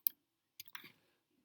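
Computer mouse clicks during a shift-click: a faint crisp click, then after a short pause a second quick double click, close and quiet in an otherwise silent room.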